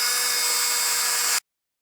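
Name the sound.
driving screws into Husqvarna 372 chainsaw kit case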